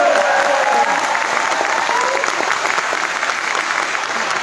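Sustained applause from an audience at a motivational speech, a dense steady wash of clapping filling the whole stretch at close, loud level with no voices over it.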